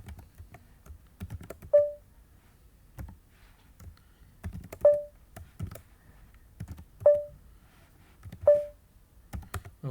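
Keys clatter on a computer keyboard as a command is typed into a Linux console, uneven bursts of close clicks with a few sharper single keystrokes spaced a couple of seconds apart.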